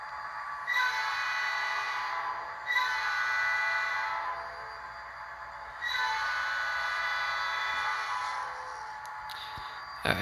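HO scale Norfolk Southern SD40-2 model locomotive running on a layout, a faint hum with repeated swelling bursts of horn-like tones in several long blasts, fairly quiet throughout.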